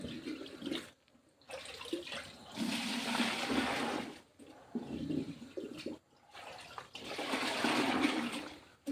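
Liquid organic slurry fertilizer is poured onto bean plants in several separate splashing, gurgling pours with brief pauses between them, moderately quiet and with no voices.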